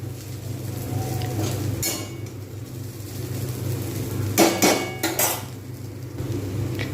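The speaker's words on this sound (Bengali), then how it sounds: "এভাবে আমি এটা নাড়িয়ে নেব। এভাবে ভালোভাবে মিক্স করব।" A utensil clatters against a pan while chowmein ingredients are stirred and mixed, giving a few sharp metallic knocks and scrapes over a low steady kitchen hum, and no one talks.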